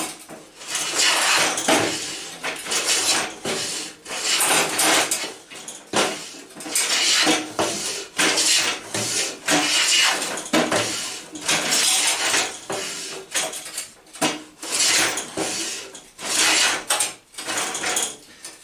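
A cheap Silverline No4 smoothing plane pushed along a wooden board, rhythmic rasping strokes with short pauses between passes, close and fairly loud, with no talk.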